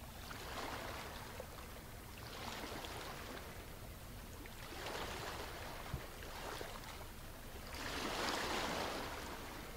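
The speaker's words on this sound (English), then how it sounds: "you hear water gently lapping on the rocks" Water gently laps on rocks in a cave, faint and distant, with soft washes swelling and receding every couple of seconds; the last swell is the fullest.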